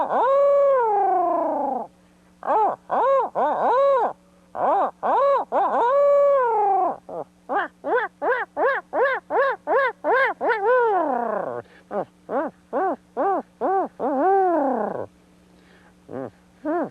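A champion caller imitates an owl with his voice, giving long series of wavering, rising-and-falling hoots that speed up into a quick, close cascade of calls.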